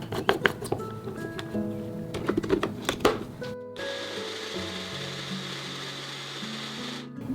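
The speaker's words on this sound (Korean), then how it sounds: "아주 부추를 진하게 하기 위해서 조금만 더 넣고 갈아주는 중이에요" Chives go into a blender to make deep green juice for kalguksu noodle dough: a few clattering knocks and rattles, then a steady, even whir of the motor grinding for several seconds before it cuts off.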